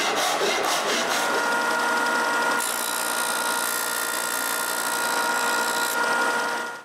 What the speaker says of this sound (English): I cut a little bit longer and up to the sander again